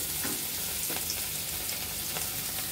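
Rohu fish pieces sizzle and fry in hot salted oil in a wok, a steady dense crackle with a few brief stirring scrapes, close and continuous, with no talking.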